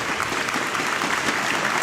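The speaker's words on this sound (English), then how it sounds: "he deserves the applause and he loves it" An audience at a tenpin bowling championship final, the 2012 Brunswick Euro Challenge, applauds the winner with dense, steady clapping that fills the whole moment at moderate volume, with no talk over it.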